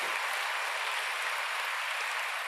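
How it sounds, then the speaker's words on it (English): Dense applause from a large commencement audience at Bowling Green State University, a continuous even roar of clapping with no break or voices. "Please join me in a round of applause."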